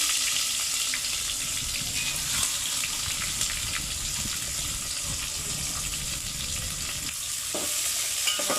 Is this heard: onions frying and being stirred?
yes